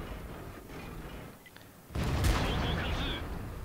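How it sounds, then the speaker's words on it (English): A tank shell strikes and glances off a turret in World of Tanks: a sudden sharp impact bursts out of a low rumbling battlefield backdrop, followed by a loud ringing, hissing tail. "He hits the 5120, and the 5120 bounces off the pretty respectable and glorious turret on this tank"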